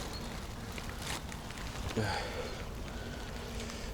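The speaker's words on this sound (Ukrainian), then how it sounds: "у нас знов пішов дощик" Steady rain patters on a surface outdoors while feeder fishing, a continuous hiss with a brief splash or rustle partway through.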